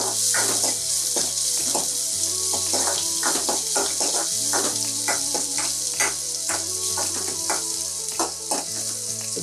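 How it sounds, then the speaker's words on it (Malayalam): Shallots sautéing in a pan for a horse gram thoran, a loud continuous sizzle with busy, rapid stirring clatter. No voices are heard. "നന്നായി ഒന്ന് ആ ഉള്ളിയൊക്കെ ഒന്ന് മൂത്ത് വരുന്ന വരെ നമ്മളൊന്ന് വഴറ്റി കൊടുക്കാം."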